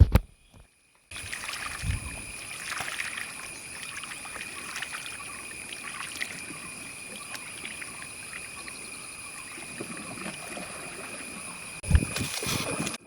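Steady wash of water sloshing and dripping as a small country boat is rowed along toward Kulamavu, with occasional louder splashes and knocks near the end.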